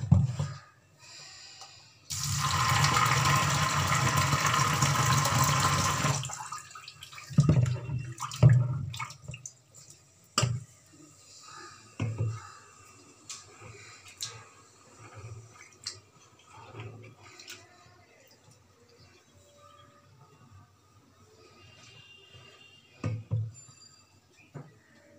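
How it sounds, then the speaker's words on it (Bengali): Water is poured away in a loud continuous gush, then food is rinsed with intermittent splashes, drips and sloshing in a sink, coming in short separated bursts. "দিয়ে এই জলটা ফেলে দেবো। আরেকবার জলে ধুয়ে নেব।"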